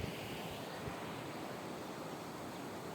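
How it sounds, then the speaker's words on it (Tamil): The Thirumani Muthar river flows with a soft, steady broadband rush heard from a short distance, faint and unbroken, with slight wind noise and no voices. "பாருங்களேன் எவ்வளோ அழகாக தண்ணி ஓடிக்கிட்டு இருக்குன்னு"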